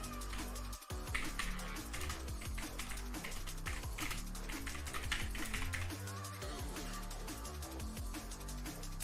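Rapid, uneven keystrokes clatter on a computer keyboard in a continuous run of close, moderately loud clicks.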